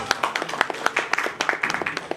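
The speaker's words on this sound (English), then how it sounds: "give her a big round of applause." Sparse, close hand claps ring out at a Kannada film press meet, a small audience applauding an introduced guest in uneven individual claps with little crowd noise.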